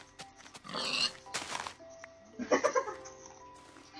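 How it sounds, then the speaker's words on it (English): Pigs in the Minecraft video game oinking and grunting as they are killed, short squealing bursts in quick succession at moderate loudness, with no speech over them. "Oh, I'm just killing pigs."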